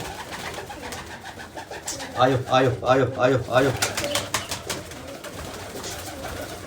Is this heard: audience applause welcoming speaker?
no